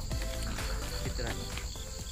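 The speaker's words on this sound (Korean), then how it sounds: "귀뚜라미 소리?" Cricket chirping outdoors near an outdoor stairway used for morning exercise, a steady insect trill running under a person's voice.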